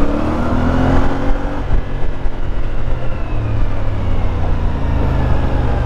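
A CF Moto 450MT adventure motorcycle accelerates hard, its engine note rising close and loud over constant wind and road rush.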